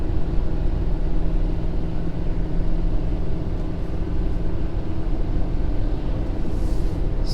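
Ford F-550 Super Duty tow truck climbing a hill in 5th gear at about 85 to 90 km/h and 2400 RPM, its engine giving a steady, loud low drone mixed with road rumble from inside the cab, with no talk.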